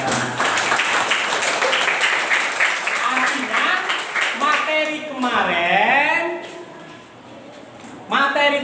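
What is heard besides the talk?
classroom applause and clapping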